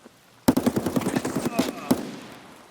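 Rapid bursts of automatic gunfire from a firefight in Escape from Tarkov, a dozen or more close, sharp shots in quick rhythm with a final crack, then a fading reverberant tail; a voice speaks faintly underneath.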